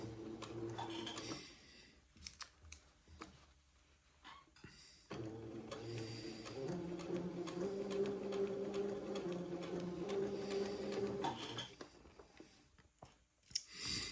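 Sewing machine stitching the second sleeve of an Eton suit on a 1/4 inch seam allowance, with short start-stop bursts and clicks, then a long steady run of stitching, close by.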